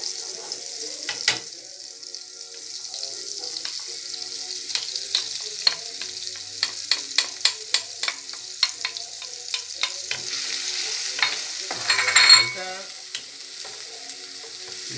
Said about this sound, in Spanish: Aquí vamos a saltear la cebolla para que se dore